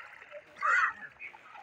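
Clear river water in a West Bengal village splashes around a foot, one brief soft slosh rising above a faint trickling flow.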